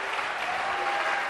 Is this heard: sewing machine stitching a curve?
no